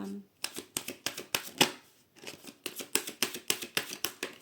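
Tarot cards are cut and shuffled at close range: a steady run of crisp riffling bursts and flicks, each brief and sharp, with a short pause midway before the rapid shuffling resumes.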